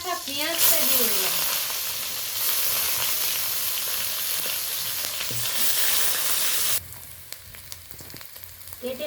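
Grated onion hits hot oil already fragrant with tempering spices and green chillies, giving a loud, steady sizzle and hiss close by that cuts down sharply near the end, leaving quieter crackling.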